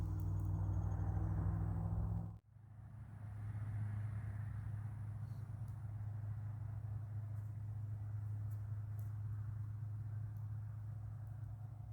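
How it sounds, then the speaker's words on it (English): A car passes on a nearby road, a steady mid-low engine and tyre rumble that holds for most of the stretch after a brief sharp dip near the start, with no one talking. "Wait for the car to go by, wait for the car, wait for the car, wait for the car to go by."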